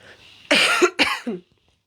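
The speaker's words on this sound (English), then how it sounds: "She's just going to cough" A person coughs several times in a row, close and loud, then falls quiet.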